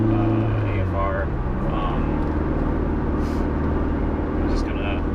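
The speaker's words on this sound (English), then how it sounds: "right now I'm driving it and it has 14 and a half or so" Car with a 6266 turbo on a stock block cruising steadily, a constant engine and road drone heard from inside the cabin, with someone talking over it.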